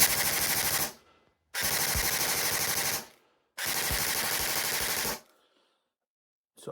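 A Delta Armory Stribog SP10A3 submachine gun, an airsoft replica, fires three loud full-auto bursts of rapid, even shots, each lasting about one and a half seconds, with short silent gaps between them and no talking.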